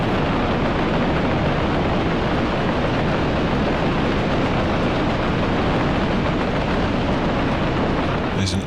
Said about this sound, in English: It's just that you're not used to the trains sound working as it should.